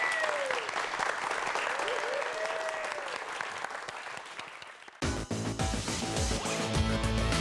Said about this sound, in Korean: 오늘의 주인공 두 분을 큰 박수로 모시겠습니다